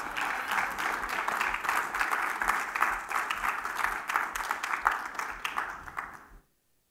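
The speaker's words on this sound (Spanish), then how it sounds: "dele palmas al Señor" A church congregation claps at a service, a dense, sustained round of hand claps with a rhythmic pulse that stops abruptly into silence.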